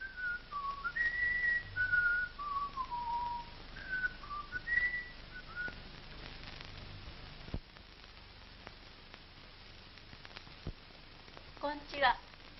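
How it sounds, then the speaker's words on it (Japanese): A person whistles a short wandering melody of clear, bright notes in a 1941 Japanese film, the tune lasting several seconds before fading into quiet room sound, with a brief final whistle near the end. "じゃあ口笛吹けば出ていくよ。"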